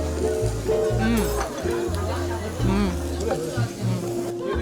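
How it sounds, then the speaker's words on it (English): A grilled ribeye steak sizzles fresh off the grill at a restaurant in Busan, South Korea, a soft crackling hiss under steady close talking, with occasional clinks of utensils. "Hope you can hear this sizzling. Beautiful, fresh off the grill."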